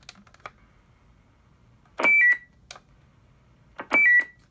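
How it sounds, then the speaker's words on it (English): A Sadelta Echomaster Pro microphone sends a two-tone roger beep twice. Each burst is a short rising pair of electronic tones heard over radio static and clicks, and they sound about two seconds apart. "I sure hope it is the two-tone Sadelta Roger beep that I love a lot."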